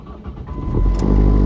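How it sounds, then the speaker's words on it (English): A car engine turning over and catching, a low rumble that builds and steadies into a loud idle within a second and a half, heard close up. "Let's see when I turn my car on."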